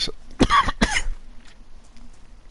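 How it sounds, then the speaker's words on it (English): Two sharp, close coughs in quick succession from a player with a tickly cough during DayZ gameplay, followed by quiet background. "Definitely got a tickly cough"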